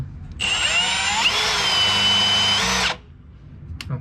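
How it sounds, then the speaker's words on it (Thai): A Milwaukee M18 hammer drill whines loudly for about two and a half seconds as it bores into concrete, then cuts off, leaving quiet room noise. "จะเจาะได้เร็วเดี๋ยวผมเจาะให้ดูที"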